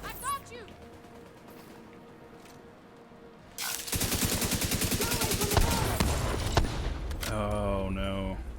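Video game gunfire in The Division 2 breaks out after a quiet stretch: rapid automatic bursts, loud and close, with overlapping shots and clatter as a firefight erupts.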